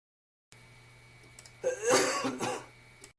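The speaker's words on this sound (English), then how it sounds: "This cough has kept me up for 3 nights straight." A person lets out a short, harsh cough with some throat clearing, close and fairly loud, following a faint low hum and a small sound, then trailing off into quiet.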